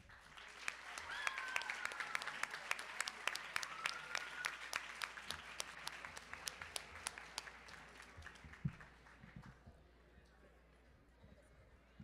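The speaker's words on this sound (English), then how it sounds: "Please give an applause to the delegation of France, Maria Fernanda Mayen." An audience at a Model United Nations closing ceremony applauds an award winner from the France delegation, sharp clapping with some cheering that swells, then thins to scattered claps and fades by the end.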